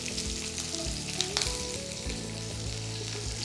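Onion, ginger, garlic and green chili sizzle steadily as they sauté in a pan for mattar paneer, a dense continuous frying hiss with a few faint stirring clinks, no voices.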